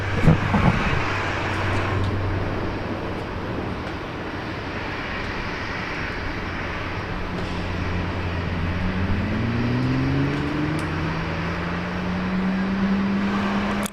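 Qantas 520 airliner landing on runway 19 right at Brisbane Airport, a steady distant roar of engines and rushing air that builds slowly, with a low rising whine emerging toward the end.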